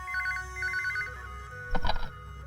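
A telephone bell rings in short repeated bursts over a steady low hum, followed by a louder, harsher burst near the end, with no voices.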